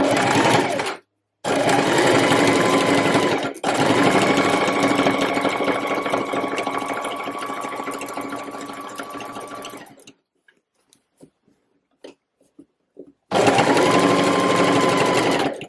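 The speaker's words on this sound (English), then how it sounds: "I'm literally just going to take a straight stitch and a 1 centimeter seam allowance right down all of those seams" A sewing machine runs a straight stitch down the seams of a reversible waistcoat in long steady bursts, with short pauses between runs and faint clicks of handling in the quiet gaps.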